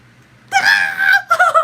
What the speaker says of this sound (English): Don't scream, bro.